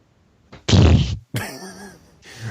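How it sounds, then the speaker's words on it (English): A cartoonish fart sound effect meant as a hill giant breaking wind: a loud, brassy, sputtering blast of about half a second, followed by a longer, lower rumbling sputter that trails off after a short gap. "That would be a hill giant farting."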